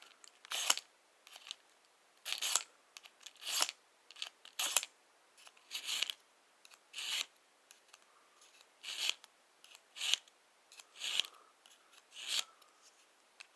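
A Camillus Wedge knife is drawn across a ceramic sharpener in a steady series of crisp, rasping strokes, each a short scrape with brief pauses between, close and fairly quiet, with no talking.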